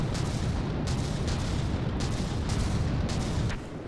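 Incoming battleship gunfire in the naval combat game From the Depths rumbles as a dense, continuous barrage of booms and impacts, loud and sustained, easing slightly at the end, no talk.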